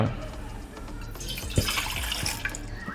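Cold water pours into a cooking pot, a short splashing, trickling run with a few drips, close and fairly loud.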